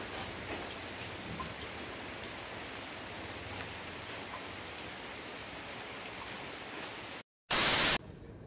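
Rain falls steadily in the Sikkim hills near a roadside viewpoint, a continuous even hiss of drops without talk, cut by a short gap and a harsh loud burst near the end.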